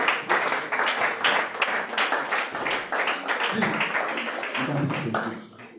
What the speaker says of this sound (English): Please let's clap for Dr. Lee.